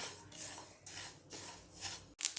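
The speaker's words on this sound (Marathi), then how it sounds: "1 वाटी तीळ आपल्याला छान असे खमंग खरपूस भाजून घ्यायचे आहेत" A cup of sesame seeds dry-roasted in a pan for Makar Sankranti til vadi gives steady, rhythmic rasping scrapes of the stirring spatula, close and moderately loud, ending in a brief sharper knock.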